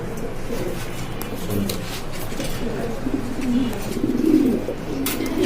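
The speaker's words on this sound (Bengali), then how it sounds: "এখানে আছে একজোড়া কিং কবুতর কিং শো কিং ডিম বাচ্চা" King pigeons, a show breed, cooing together in a pigeon seller's enclosure, giving a continuous layered murmur of low throaty coos that swell and fade over several seconds.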